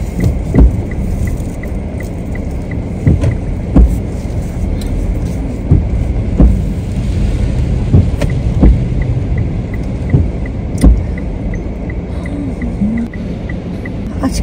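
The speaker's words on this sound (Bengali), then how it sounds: "আজকে মোটামুটি ভালোই ট্রাফিক দেখছি" Road traffic in Montreal on a rainy day: a steady wash of passing cars with tyre hiss and occasional sharp knocks, fairly close and constant, with no talking.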